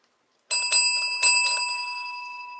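A small bell like a bicycle bell is struck in two quick double rings, bright metallic tones that ring out clearly and decay slowly, alone with no talking.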